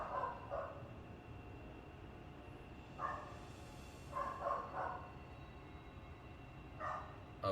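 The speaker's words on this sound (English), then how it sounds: "they're not listening to my pup barking" A dog barks in Final Fantasy XIV, several short barks in spaced bursts, fairly faint, over a quiet, low ambient game background.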